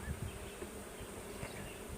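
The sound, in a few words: many bees buzzing in a big hive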